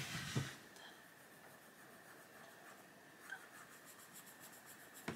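Soft colored pencil shading a dark line down a butterfly drawing on paper, a faint continuous scratchy rubbing at close range with a few light taps, no voices.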